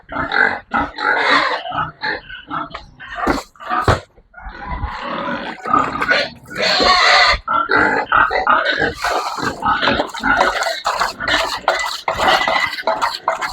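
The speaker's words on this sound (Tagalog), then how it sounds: "Isasabay ko na guys lahat pakain ng mga baboy." Pigs grunt, oink and squeal loudly and close up at feeding time on a farm, a dense, continuous chorus of rough bursts with no talking.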